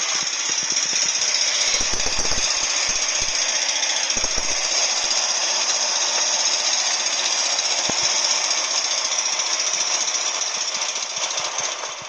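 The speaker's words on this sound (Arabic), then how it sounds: "العربية المكنة بتاعتها صوت عالي قوي، يعني هي المكنة ورا" Rear-mounted engine of a 1972 Volkswagen Notchback idling loudly while still warming up, a steady, dense mechanical clatter with harsh rattling that holds constant and close throughout, no talking.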